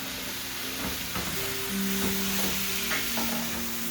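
Steady, hissing sizzle of meat frying in a pan for chili, with a few soft clinks and stirring scrapes mixed in, fairly close and without talk.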